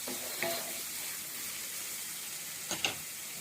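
Onions frying in a pan with salt and turmeric, giving a steady low sizzle while a spoon stirs them with a few brief scraping clicks near the start and end.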